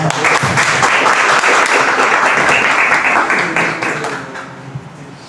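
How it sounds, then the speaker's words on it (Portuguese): A round of applause in a municipal council chamber during a public hearing: many hands clapping loudly and steadily, then thinning and fading toward the end. "Uma salva de palmas"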